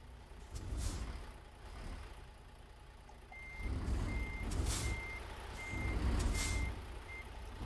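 American Peterbilt truck in a truck-driving video game reversing, its steady, evenly spaced backup beeps repeating over a low engine rumble that swells and eases as it maneuvers.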